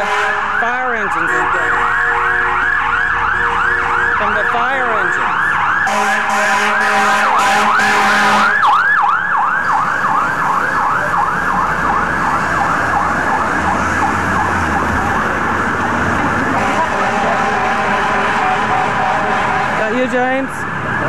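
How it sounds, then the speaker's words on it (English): Fire engine sirens wail loudly past a city street at night, rising and falling sweeps repeating over traffic and crowd noise, with people talking nearby throughout. "here come the fire engines"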